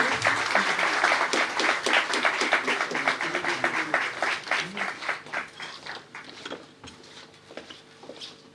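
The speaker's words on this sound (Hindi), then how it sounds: "प्लीज तालियां बजते रहनी चाहिए" Audience clapping at a retirement party during a memento presentation, loud, crisp rhythmic claps from a crowd that gradually thin out and fade toward the end.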